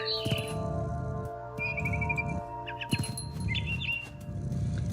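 Birds chirp in a grassy outdoor scene of What Remains of Edith Finch, short bright tweets and trills repeating over a low rhythmic background rumble, fairly close and clear with no talk.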